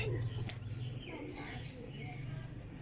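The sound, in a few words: Sialkoti pigeons cooing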